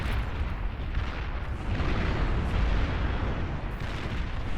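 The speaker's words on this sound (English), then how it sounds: "Oh, the power of Cortex artillery. So brutal." Cortex artillery pounding away in a four-way free-for-all strategy battle, a continuous barrage of overlapping booms and bursts, loud and dense throughout with no talk.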